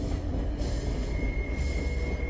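A train rolls along rails across the Polish moors, a loud continuous rumbling clatter with a thin, sustained wheel squeal running over it.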